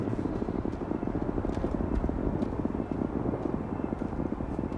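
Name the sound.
spaceship engine blast in the video game Starfield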